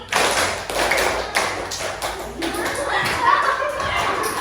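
A primary school class claps together in counted rhythm patterns, a series of sharp group claps in short bursts and pauses, with children's voices and a teacher talking over them.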